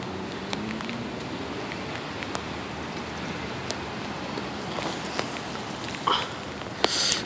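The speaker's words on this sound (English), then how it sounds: "And it's raining." Rain falls outdoors as a steady, fairly soft hiss, scattered with sharp drips and taps, plus a slightly louder patter near the end and no speech.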